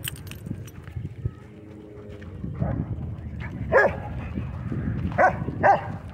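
A dog barks a few times at a dog park, loud sharp yaps around the middle and end of the clip, mixed with general outdoor rustle and movement.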